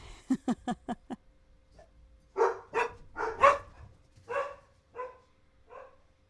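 Dogs bark at close range. A fast run of five sharp barks is followed by a pause, then several longer, lower woofs and yelps spaced unevenly and fading in loudness.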